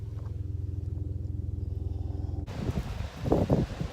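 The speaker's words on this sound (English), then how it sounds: "So it's pretty windy out here." A low, steady engine-like rumble gives way to gusty, rushing wind buffeting the microphone in uneven bursts outdoors.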